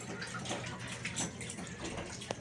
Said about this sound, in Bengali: আমি হাতটা একটু ধুয়ে নিচ্ছি